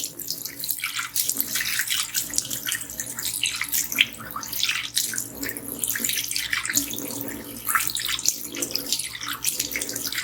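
Water runs steadily from a basin tap, splashing and gurgling as a mixer grinder is rinsed under it, close and continuous for about ten seconds.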